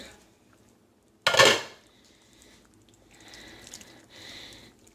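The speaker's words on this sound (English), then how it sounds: "Let me get the excess moisture off that lid." A metal pot lid lifted off a pot of shredded Mexican beef, one sharp clattering knock followed by softer scraping and rattling as the moisture is shaken off, close and without talk.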